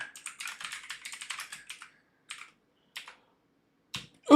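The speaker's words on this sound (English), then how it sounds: "I really should get a quieter keyboard" Loud, clacky computer keyboard typing rattles off in a rapid burst of crisp keystrokes, then trails into a few scattered short taps separated by silence, ending with a sudden thump.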